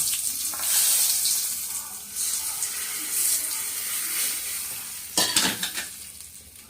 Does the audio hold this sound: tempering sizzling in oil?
yes